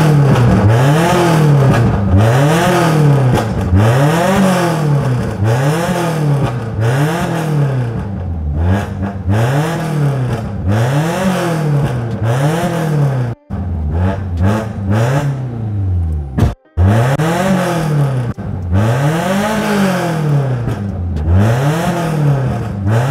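A modified Tofaş car at a car show revs its engine over and over, loud and close, with repeated rising and falling exhaust roars, two brief cutoffs near the middle, and no talking.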